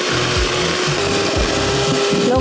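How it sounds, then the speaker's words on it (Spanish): Loud, continuous whirring of an electric hand mixer beating eggs, running steadily, with rhythmic low thumps as the beaters churn through a bowl. "Hay que batirla bien con la batidora."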